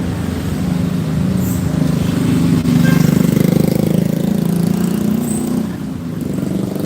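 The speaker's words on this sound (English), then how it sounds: "You guys definitely will hear scooters and horns on this street." Scooter engines drone and rumble along a busy street in Da Nang, Vietnam, a loud, steady motor hum that swells as bikes pass close by.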